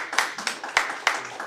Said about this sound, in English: If you will, please no applause.